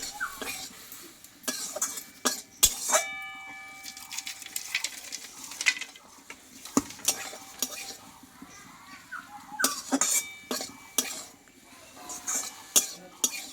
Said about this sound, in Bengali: এটা আমি দিয়ে দেবো দিয়ে পোস্ত বাটাটা দিয়ে আমি কিছুক্ষণ আবারও নাড়াচাড়া করে নেবো